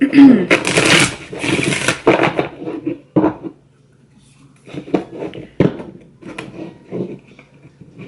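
Oracle cards from a Whispers of Love deck being shuffled, several quick riffling bursts of papery flutter up close, then softer handling noises while someone talks over parts of it.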